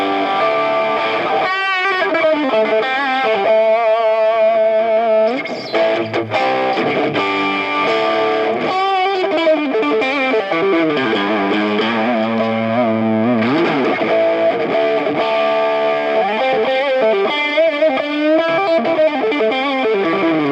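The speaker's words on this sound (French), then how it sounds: "Je vais vous faire maintenant un petit récapitulatif avec de la distorsion des différentes configurations micro" An Ibanez Gio GRG121 electric guitar plays loud and continuous through distortion, running through its different pickup settings with sustained chords and quick lead runs and no pauses.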